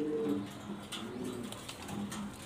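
Jharna satin pigeons cooing in low, soft repeated phrases, close by, with a steady background hum beneath the calls.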